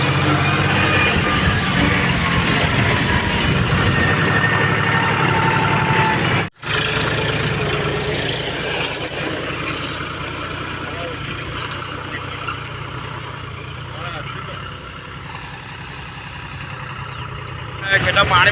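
A tractor engine runs steadily at a low, continuous rumble, likely with a cultivator attached on a farm. The drone is close and unbroken apart from one brief cut near the middle.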